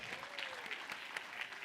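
An audience at a 2022 annual business meeting applauds donors with a dense, continuous wash of clapping from many hands that holds steady throughout, with a faint voice lingering underneath.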